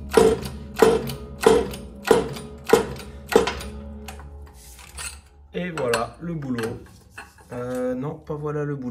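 A hand-pumped press seats a pinion into an 02M gearbox from a Polo WRC 2.0 TFSI. Six regular metallic clanking strokes come first, then someone talks over quieter mechanical sounds.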